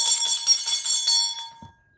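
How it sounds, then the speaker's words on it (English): A small bell is rung, giving bright, rapid, shimmering repeated strikes for about a second and a half before it is stopped with a soft thud, then silence. "we got to ring the other bell for that"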